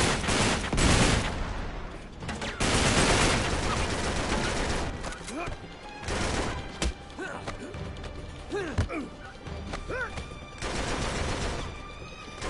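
Machine gun fire and other gunfire in the video game Uncharted 3: Drake's Deception, dense loud bursts at the start fading into scattered shots, impacts and whistling sounds from the game.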